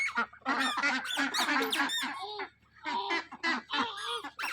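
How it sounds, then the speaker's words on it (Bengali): Ducks honk repeatedly in a noisy, overlapping flock, loud and close, with a brief lull midway. "কত সুন্দর লাগছে হাঁসগুলো"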